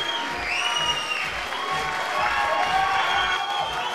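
Arena crowd at an MMA event applauding and cheering steadily after the bout ends, a loud, dense wash of clapping with scattered shouts throughout.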